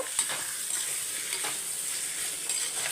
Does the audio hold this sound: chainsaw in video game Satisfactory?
no